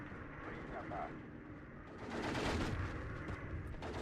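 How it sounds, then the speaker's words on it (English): Bombing strike explosions in the World War II strategy game Steel Division 2 rumble as dense, overlapping blasts, building to a louder, sustained roar in the second half. "That's an easy bombing strike."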